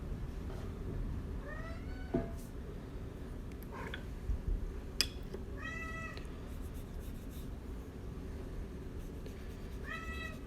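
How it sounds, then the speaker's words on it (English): A talkative house cat named Dinah meows repeatedly in a quiet room, several short chirpy calls spread over the stretch, fairly close, with faint tapping and ticking between them and no talk. "World's most talkative cat."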